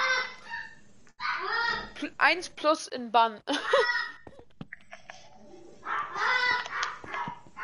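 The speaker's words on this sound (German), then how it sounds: "Alter, was ist da im Hintergrund, Digga? Ein Papagei." A pet parrot squawks and chatters in the background during a live Minecraft stream on PS4, loud harsh calls in repeated bursts mixed with a voice.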